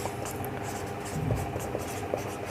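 Soft, continuous scratching of handwriting on a surface during a math lesson on square roots, faint and close, with small irregular strokes and no talk over it.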